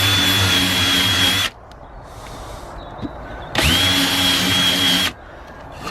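Power drill run at full speed while driving into a wooden garden crop frame: two loud steady whining bursts of about one and a half seconds each, with a quiet pause between.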